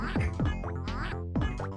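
A cartoonish duck in an Amiga platformer game quacks several times in quick succession, loud and close, with bright nasal calls bunched together.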